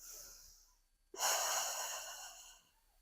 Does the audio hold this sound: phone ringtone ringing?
no